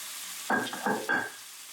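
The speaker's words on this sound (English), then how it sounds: "I'm going to put it all into this vegetables that are cooking." Vegetables frying in a pan as an apple and pear reduction is added for a Lucknowi dum biryani, giving a brief close burst of sizzle and stirring in three short surges.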